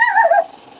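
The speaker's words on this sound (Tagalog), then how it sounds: "Oh, may aso." A dog gives a single short, high whimpering yip up close, lasting about half a second before fading into quiet background.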